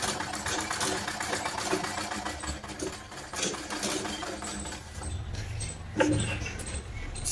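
A sewing machine runs steadily while stitching an inner seam on a blouse strip, a close, continuous mechanical whir with faint rattling.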